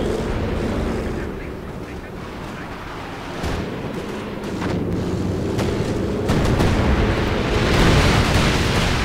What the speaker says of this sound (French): donc c'est des roquettes, des mitrailleuses.